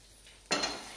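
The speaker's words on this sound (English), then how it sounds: "Listen to that sizzle." Eggs frying in a pan give a sudden burst of bright sizzling with a soft clink of cookware, starting halfway through and hissing on steadily, fairly close with no talk.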